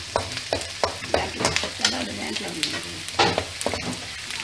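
Garlic frying in a pan, a loud nearby sizzle punctuated by repeated scraping stirs, with a voice briefly murmuring in the middle.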